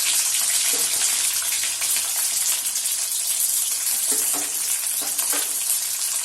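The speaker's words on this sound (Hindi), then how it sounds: "कढ़ाई में तेल गरम हो चुका है। इसमें हम प्याज डाल देंगे।" Onions hit hot oil in a kadhai and set off a loud, steady, hissing sizzle that continues throughout, with faint stirring clatter underneath.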